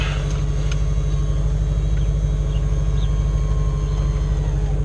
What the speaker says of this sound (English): This does sound like the stock exhaust. This is just like all motor you're hearing.